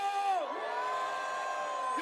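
Rally crowd outside Dongdaegu Station's Park Chung-hee Plaza in Daegu roars with sustained shouting and whooping, a dense wall of voices that swells early and holds steady throughout.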